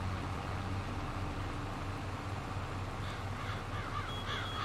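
Crows caw a few times, faint and fairly distant, over a steady outdoor farm rumble where an Allis Chalmers D21 tractor works during silage season near Alma, Missouri.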